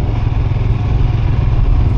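A motorbike rides along a hilly road, its engine a steady, loud, close rumble with constant wind buffeting and no break throughout.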